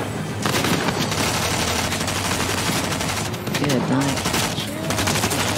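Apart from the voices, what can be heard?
SMG gunfire in the video game Fortnite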